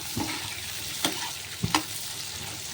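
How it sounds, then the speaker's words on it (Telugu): Curry leaves sizzle in hot oil for a green peas and potato kurma, a steady frying hiss broken by a few sharp spoon-against-pan clinks, close and fairly loud with no talking. "ఇప్పుడు కరివేపాకు అన్నది వేస్తున్నాను."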